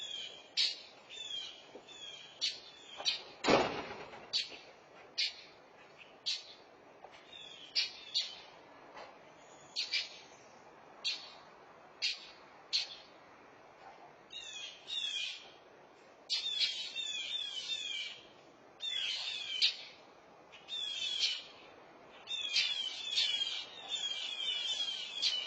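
Outdoors, birds call repeatedly around a baby mockingbird on the ground, a steady series of sharp, close squawks and chirps in short rhythmic bursts, with one louder thump early on.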